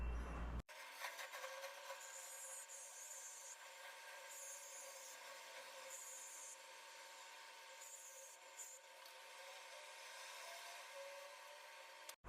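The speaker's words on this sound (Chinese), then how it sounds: "接下来我们准备一个切割机，把这个焊盘给切割一下" A small cutting machine grinds into a solder pad on an electronics board, a continuous faint rubbing whine with slight fluctuations and no talk over it.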